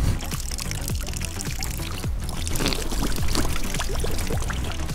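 Water splashes steadily from a courtyard fountain in Copenhagen, a continuous close, full pouring wash with no voices over it.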